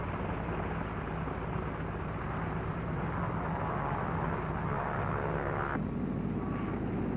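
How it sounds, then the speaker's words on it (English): Navy F6F planes launch by catapult from the flight deck of the carrier USS Shangri-La at sea, a continuous loud roar of aircraft engines with a sudden shift in tone near the end. "On board USS Shangri-La at sea, Navy F-6F mother control planes are catapulted from the carrier's flight deck."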